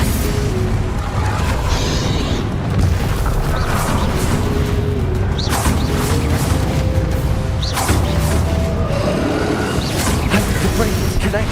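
Explosive spell blasts, Bombarda and Confringo, in the game Hogwarts Legacy, booming bursts over a steady loud game soundscape, with chanted incantations and talk throughout.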